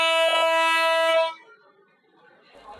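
Loud, sustained blast from an M10 diesel locomotive's horn at Colombo Fort, held for over a second and then cut off, leaving quiet background.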